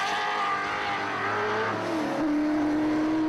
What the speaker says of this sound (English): out there thrashing their cars for the sheer hell of it